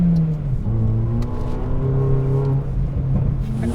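A Volkswagen Polo with a 1.6 litre engine and an aftermarket exhaust revs and drives nearby, a loud steady engine drone whose pitch rises and settles.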